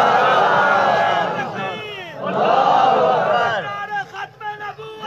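At a religious conference, a large crowd loudly chants slogans in unison in response, their roar swelling in two long surges before breaking into shorter bursts of shouting.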